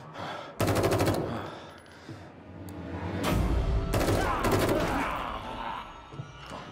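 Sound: gunfire in the video game The Evil Within 2

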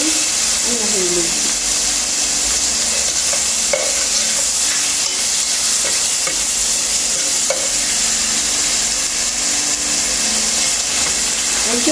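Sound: chicken frying in a pan

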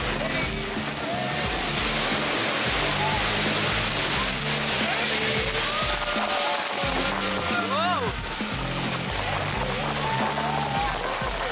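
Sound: boat passing under Iguazu waterfall

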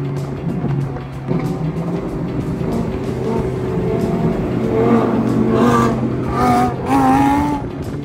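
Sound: Lamborghini V10 engines revving

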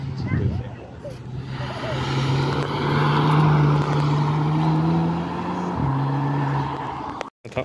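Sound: Golf rally car engine passing

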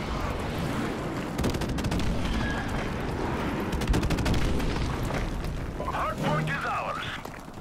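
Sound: airstrike explosions in Call of Duty: Modern Warfare Remastered video game

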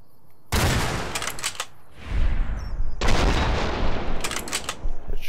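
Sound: gunfire shooting a Deathclaw in video game Fallout New Vegas

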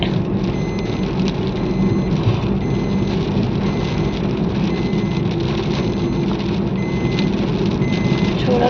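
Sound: rain starting to fall on the road

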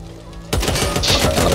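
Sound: RPK light machine gun firing in the video game Back 4 Blood

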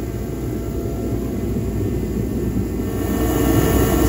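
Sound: torpedo heater running, warming an axle

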